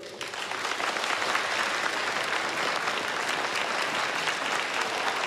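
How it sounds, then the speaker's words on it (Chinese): Sustained, dense applause from a large audience greeting the competition committee chairman as he takes the stage, steady and loud throughout with no other sound over it. "掌声有请"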